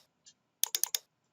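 A computer keyboard clicks as a short command is typed, with one light tap followed by a quick run of four crisp, close keystrokes in a quiet room.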